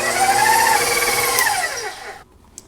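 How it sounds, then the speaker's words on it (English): A stand mixer with a paddle attachment churns cream cheese on medium speed, its motor whining loudly and steadily before winding down and stopping, followed by a faint click. "Just going to put this on the mixer with a paddle attachment, and we'll run this on medium speed just until it's incorporated."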